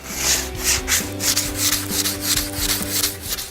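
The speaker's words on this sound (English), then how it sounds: "you can always use a hand sander" Wooden pallet bench edges are rubbed by hand with sandpaper in steady back-and-forth strokes, close and fairly loud, with a regular rasping rhythm and no speech.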